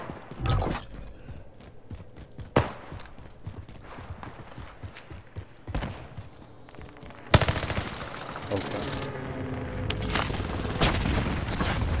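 Gunfire from Call of Duty: Modern Warfare rings out in scattered sharp shots and short bursts, some close and loud, followed by a heavier continuous stretch of firing and commotion toward the end.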